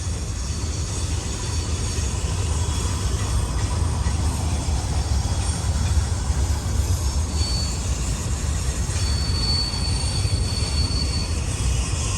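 Long BNSF freight train of articulated cars sharing trucks between units rolls steadily past close by, a continuous loud rumble of wheels on rail with faint squeal throughout and no talking.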